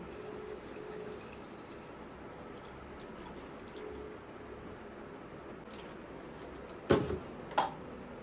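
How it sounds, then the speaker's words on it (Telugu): Water trickles steadily into the salt compartment of an IFB dishwasher, a soft continuous fill with no voices, followed near the end by a couple of louder clunks as the cap is handled and closed. "సో వాటర్ ఫిల్ చేస్తాం, క్లోజ్ చేస్తాం."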